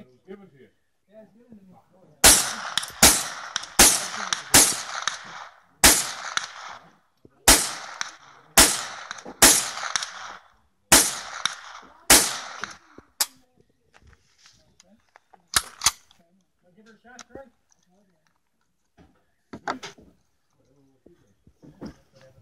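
Rifle shots fired from a bench at an outdoor shooting range, a rapid string of about a dozen loud sharp cracks, then a few sparser shots and quieter handling noises afterwards.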